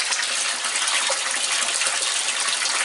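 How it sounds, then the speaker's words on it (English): Water drains through a bell siphon from an IBC aquaponics grow bed filled with clay pebbles, a steady loud gushing rush close by with no other sounds. "And we've got this down about 8-10 minutes to fill the bed, and now it's draining."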